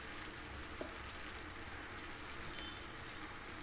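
Ingredients for mango pickle frying in a pan, a steady quiet hiss and crackle of oil running evenly throughout with no talking.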